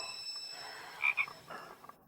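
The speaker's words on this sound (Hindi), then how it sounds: "यह आवाज क्या है? मेंढक की आवाज लग रही है।" A frog croaks a couple of times, soft and distant, beside a dried-up riverbed, under a faint, steady background hiss.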